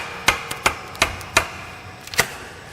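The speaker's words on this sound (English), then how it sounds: "all you do is just start, hammer it in" A hammer strikes the chrome cladding on a Ford Edge wheel to pry it loose, about six sharp metallic knocks at an uneven pace, close and clear with no talking.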